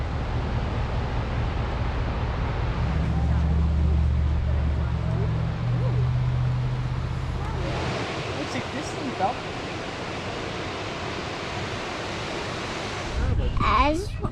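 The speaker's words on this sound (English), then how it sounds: "And look at that waterfall." Waterfall heard from a viewpoint, a steady rushing roar of falling water that fades partway through, with people talking nearby over it.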